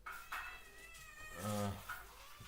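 Cats meow several times, with one loud drawn-out cry in the middle and shorter calls around it, against a faint indoor background.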